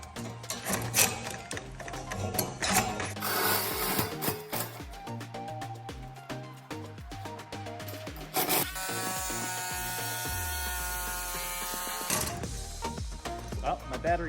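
A battery-powered Sawzall reciprocating saw fitted with a reused, re-bent hacksaw blade buzzes in bursts, then runs steadily until it winds down and stalls as the battery dies, followed by clattering handling noises.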